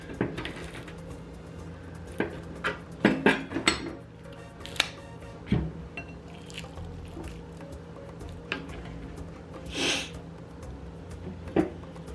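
Corn being chopped with a knife for sancocho: irregular close knocks and clunks against a board, some clustered in quick bursts, with a faint sharp clink near the end and no talking.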